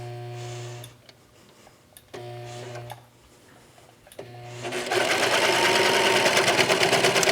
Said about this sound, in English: I'm just gonna serge right up along the edge.